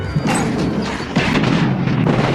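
Explosion in a Chucky horror film scene, a house blast set off by a gas stove trap: a dense, loud rumbling roar that holds steady through the whole moment, with a fresh surge partway through and no speech.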